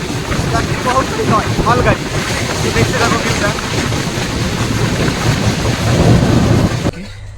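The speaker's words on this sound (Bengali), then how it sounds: "মালগাড়ি" A goods train rumbles past at a railway station in Odisha, a loud, continuous roar of wheels and wagons that holds steady for about seven seconds before cutting off abruptly.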